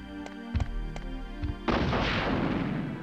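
Gunshots fired at the Tyrant in a video game randomizer: three or four sharp, loud reports a fraction of a second apart, followed by a heavier booming blast that rumbles on.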